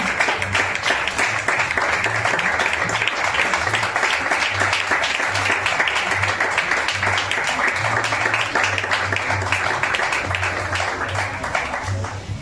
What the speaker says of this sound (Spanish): Entonces hágale fuerte las palmas a Cristo en este día